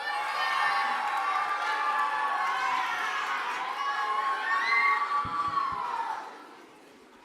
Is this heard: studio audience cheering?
yes